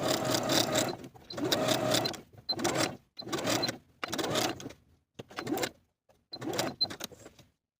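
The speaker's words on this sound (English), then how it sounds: "we're going to sew basting stitches from front notch all the way around to back notch" A home sewing machine runs basting stitches around a fabric sleeve in several separate bursts of whirring, rapid needle chatter, each lasting about a second with brief quiet gaps between, nearby and alone.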